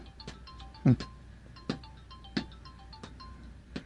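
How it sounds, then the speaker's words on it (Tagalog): A mobile phone keeps ringing in a Tagalog cartoon, its electronic ringtone repeating in short bursts over several seconds at moderate volume, with soft tones between the louder rings and no speech. "may sira na ba yung cellphone nyo? Bakit hindi tumigil sa katutunog?"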